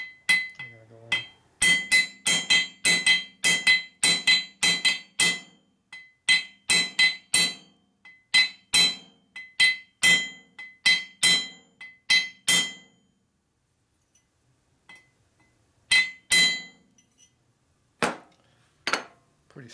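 Brisk metallic tapping of a hammer on a brass punch driving it into a panhead rocker arm of a 1961 Harley FL 74ci engine: rapid close strikes in bursts, then sparser single taps after a short pause.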